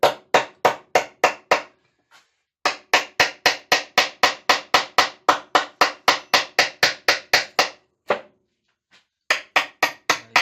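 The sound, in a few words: hammering by hand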